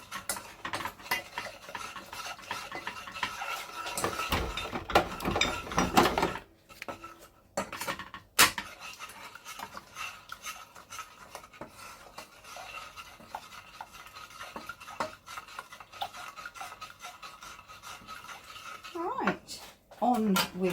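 A spoon stirs a smooth paste of sugar and milk in a pan with close, rhythmic scraping and clinking against the metal, pausing briefly midway, while a voice talks over it.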